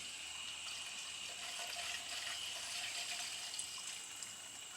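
Water runs from a garden hose through a swivel fitting at full pressure, giving a quiet, steady hiss that stays even throughout.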